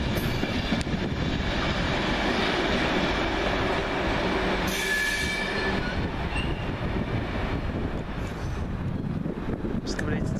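A Govia Great Northern train near King's Cross rolls past loudly and steadily, its broadband rumble and wheel noise continuous throughout, with brief higher squeals and clatter rising over the din.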